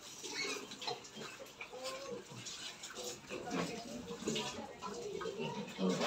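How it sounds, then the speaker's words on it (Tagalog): Pigs and piglets on a farm grunt and squeal in a busy continuous mix with splashing water, fairly close, while a person talks intermittently over them. "Napakabilis lumaki ng baboy."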